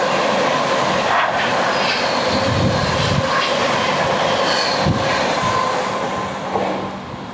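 The Magadh Express runs along the rails with a continuous loud rumble heard from on board, with faint rhythmic clatter and wheel noise throughout.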